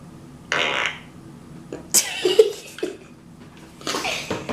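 A medium-length fart sound effect plays at full volume from a device, with a few brief, breathy blasts and sputters broken by short pauses. There are faint reactions in the room between the blasts.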